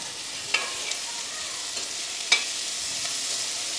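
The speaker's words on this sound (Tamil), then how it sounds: "வெங்காயம் தக்காளி வதக்குனாலே அந்த நல்லெண்ணெயில வதக்கும் போது இன்னும் வாசமா ஃப்ளேவர் கொஞ்சம் நல்லா இருக்கும்" Shallots and tomatoes sautéing in sesame oil for a field crab dish, giving a steady soft sizzle with a few sharp clinks of stirring against the pan and no talk.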